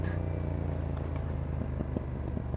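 A 2025 Yamaha MT-07 motorcycle engine with a newly installed quickshifter drones steadily, with faint crackling exhaust pops scattered through the short stretch and no talk.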